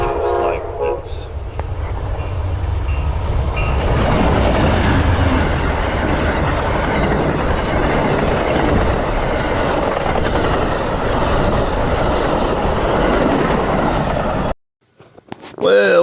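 Amtrak passenger train, a Silver Meteor or Floridian, rolling past in Florida. A loud, sustained rumble with a horn blast near the start fills most of the pass, then cuts off abruptly near the end.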